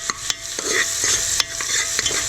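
Onion for a dhaba style dal fry sizzles in a hot pan as a spoon stirs it, sharp scraping clicks ticking out at an uneven rhythm over a steady close frying hiss, with no voices.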